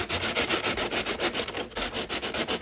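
A flat 180-grit sanding block rubs over the painted polycarbonate body of a Tamiya Subaru Impreza WRX STi RC car in quick, even back-and-forth strokes, close and loud, with no voices.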